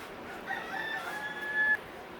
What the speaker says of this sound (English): Damn, we got 3 roosters going at it.